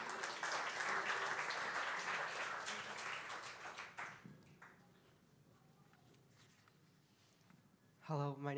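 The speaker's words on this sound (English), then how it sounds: "let's give a big round of applause to Ian" A middle school worship congregation applauds Ian with loud clapping that lasts about four seconds and then fades into quiet room noise. A voice begins speaking at the very end.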